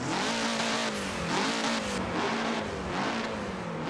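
A 2017 Volvo XC90 hybrid SUV revs hard in the Forza Motorsport 7 racing game, a loud, close engine rising and falling through several pulls with a strained, sporty whine, no talking.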